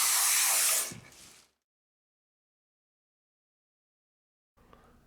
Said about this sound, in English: Move the dispenser quickly, evenly covering the surface you are spraying.